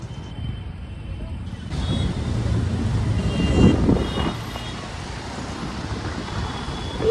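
Steady rumble of road traffic with engines idling and passing vehicles nearby, a constant low roar throughout.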